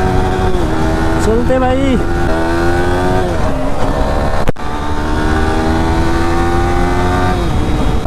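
Engine of a Yamaha R15M motorcycle revving during a wheelie on the road, a loud, close, sustained whine with pitch rising and falling, a sharp break near the middle, and someone speaking briefly over it.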